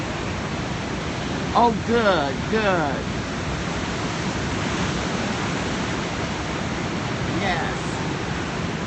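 Pacific Ocean surf rolls in where surfers are trying to catch waves, a steady, loud, hissing roar throughout, with voices briefly talking over it near the start and again faintly later.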